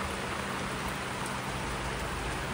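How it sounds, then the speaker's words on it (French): Steady rain falls continuously on an island, heard from aboard a sailboat, with an even hiss, fairly loud, and no voices or other distinct sounds. "regarde comment il pleut"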